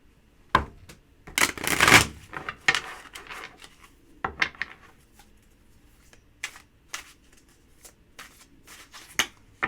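Tarot cards shuffled and flicked by hand during a reading, a burst of dense papery riffling followed by scattered softer card slaps and snaps, close and without talk.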